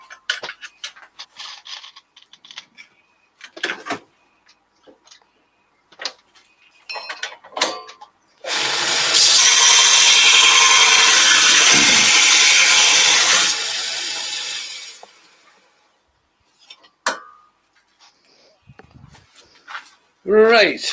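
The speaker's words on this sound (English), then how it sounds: "I'm just going to sharpen the other end of my spindle gouge" A spindle gouge's detail end is ground on a sharpening wheel, a loud steady rasping hiss lasting about six seconds amid light workshop clatter and brief talk before and after, while making a small turned box.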